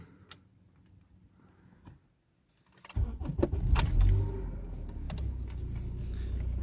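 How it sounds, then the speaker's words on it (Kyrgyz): A Honda Accord is started after a quiet moment of faint clicks and key jangles, the engine catching with a sudden rise into a steady, close idle rumble. "Азыр сиздерге пробегин дагы машинаны жандырып көргөзөбүз."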